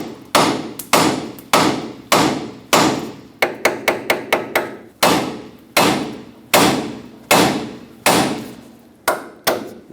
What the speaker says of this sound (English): Use a hammer and hit right here.